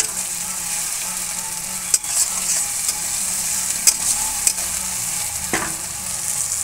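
Meat fries steadily in hot mustard oil, a continuous close sizzle with a few sharp clicks of a utensil against the pan and no voices.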